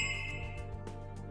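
A bright notification bell dings clearly over a steady bed of background music, its chime ringing briefly at moderate loudness.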